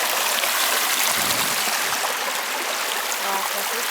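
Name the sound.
stream flowing through fallen trees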